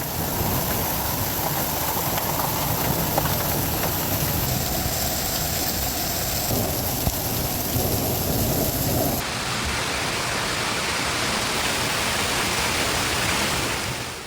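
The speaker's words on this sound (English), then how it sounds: "In some streets, hail fell heavily and covered the ground within minutes." Heavy hail pounding the ground during a Denver hailstorm with thunder, a dense, loud, continuous roar that shifts in character partway through, with no talking.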